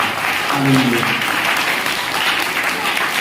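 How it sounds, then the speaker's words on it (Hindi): A congregation at a Hindi-language church service claps in thanks to God. Dense, steady applause from many hands fills the room, with a brief voice heard near the start. "ताली बजा के परमेश्वर को धन्यवाद करें।"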